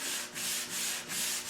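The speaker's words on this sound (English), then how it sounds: "So I'm just putting some very coarse paper on my sanding block here" Coarse sandpaper on a sanding block rubbed over wood for tongue-and-groove cabinet doors, a steady rasping hiss in four back-and-forth strokes, close and fairly loud with no talk.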